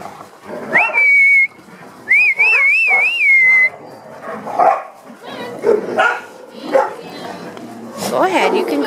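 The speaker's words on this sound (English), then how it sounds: "Why you barking?" Dogs in a mixed group bark and yip in short, irregular bursts at close range, mixed with high whistle-like whines and a person talking to them.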